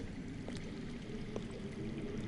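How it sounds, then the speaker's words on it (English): Low, steady rush of water flowing underground, faint and distant, a continuous murmur with a few soft splashes and no voices. "That's water. I hear water. From underground."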